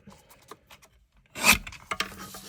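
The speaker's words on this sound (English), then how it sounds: "So I think first things first, I'll just trim that down a bit," Cardstock being trimmed for a handmade card layer: a few soft scattered scrapes, then a loud rasping cut near the middle followed by shorter rubbing strokes, close and alone without talk.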